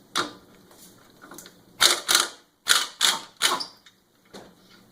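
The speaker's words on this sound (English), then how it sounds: "take these bolts out" A ratchet wrench loosens 19 mm bolts during a CV axle replacement on a Mitsubishi Outlander, heard as several short bursts of quick metallic clicking with quiet gaps between them, close by.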